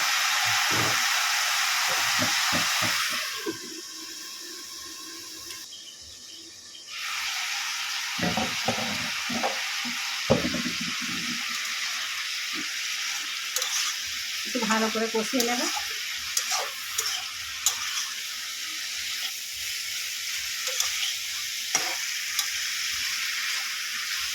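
Four green chillies frying in a pan for a Bengali pumpkin-leaf curry, stirred: a loud continuous hissing sizzle, briefly quieter partway through, with clinks and scrapes of a spatula against the pan, no speech.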